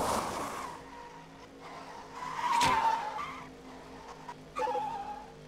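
Tires squeal and skid in the Cars video game, with a sharp screech in the middle and another near the end over a steady engine hum and game sounds.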